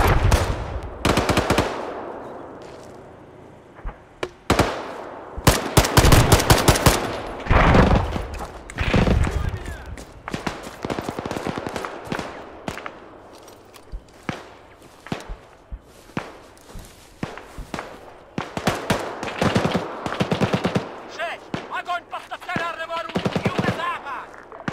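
Dense bursts of automatic and single-shot gunfire crack through an ArmA 3 battle, some rounds close and loud, others farther off, with shouted voices and scattered footsteps between the volleys.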